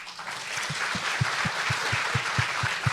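A church congregation applauds to welcome a guest, a dense, steady round of clapping from many hands with a faint rhythmic thump running underneath, no voices.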